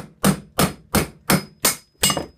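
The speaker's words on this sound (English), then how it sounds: "give it a couple of whacks from the back, and then out comes the piston" Six sharp metallic hammer blows, evenly spaced, driving a 1/4 inch extension against a badly seized brake caliper piston from the back; loud and close, with no talk.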